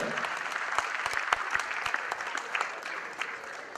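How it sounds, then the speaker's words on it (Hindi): A standing audience at a business event applauds, a dense burst of close hand claps that holds steady and then slowly thins out toward the end. "एक बार खड़े होकर तालियां जरूर बता दीजिए, खड़े होकर तालियां बता दीजिए।"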